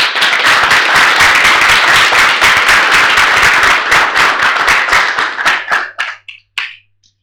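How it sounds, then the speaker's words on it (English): Loud audience applause for a speaker at a tech meetup, close and crisp clapping from a small crowd that thins into a few scattered claps and stops. "So big applause for Paweł."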